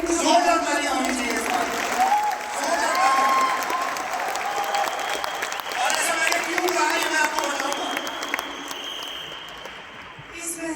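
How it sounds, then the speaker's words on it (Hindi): An audience bursts into loud, sustained applause at a motivational talk, a thick continuous roar of clapping that swells and then gradually thins toward the end, with voices audible through it. "जोरदार तालियां"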